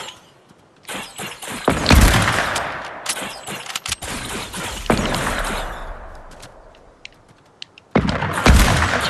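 Rapid bursts of gunfire from the video game Fortnite ring out in loud, repeated volleys over about nine seconds, with a short lull before a final burst near the end.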